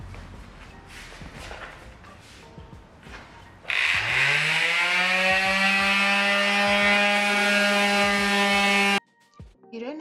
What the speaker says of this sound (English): You don't have to use a sanding machine for this project.